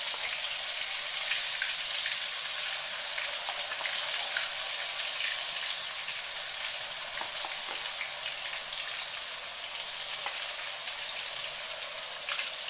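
Spice paste for mutton curry frying in hot oil, giving a steady, bright, dense sizzle with fine crackles that carries on evenly throughout, close up and with no voices.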